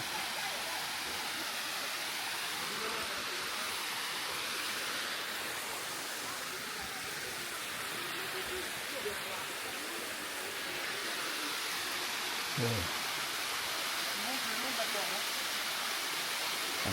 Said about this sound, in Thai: มันเป็นน้ำตกหินปูนครับ